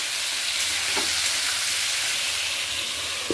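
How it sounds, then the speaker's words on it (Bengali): Spiny gourd (kakrol) pieces with salt and turmeric fry in hot oil, giving a loud, dense, continuous sizzle with a couple of faint utensil taps, heard up close with no talking. "এবার সুন্দর করে কাঁকরোলগুলো ভাজা ভাজা করে নিতে হবে"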